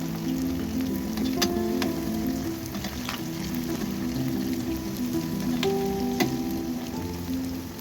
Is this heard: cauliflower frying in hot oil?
yes